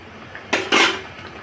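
A spoon scrapes and clinks against a pan while stirring a fish egg fritter mixture, two quick metallic scraping strokes close by against a quiet background.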